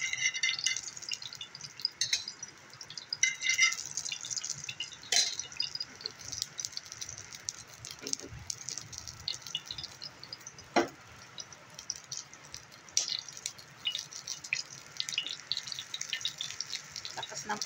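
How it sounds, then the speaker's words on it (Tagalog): Heavy rain pours in a steady, dense hiss, with scattered drips and rattling clatters on nearby surfaces and a faint voice now and then in the background. "Lakas ng ulan."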